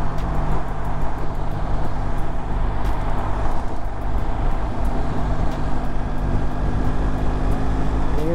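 A motorcycle cruises at highway speed, about 86 km/h on adaptive cruise control, giving a steady, loud, continuous engine drone with wind rush and tyre noise throughout and no clear talking.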